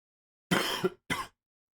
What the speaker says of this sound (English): Small cough there, guys. Sorry.